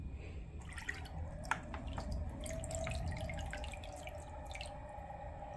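Seachem Tidal hang-on-back aquarium filter lifted out of the water, giving a steady trickle and splash with scattered drips over a constant low rumble of the running motor, fairly close.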